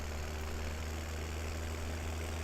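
A Massey Ferguson MF Series 600C tractor engine from Farming Simulator 17 idles steadily, a low constant rumble with an even hum and no voices.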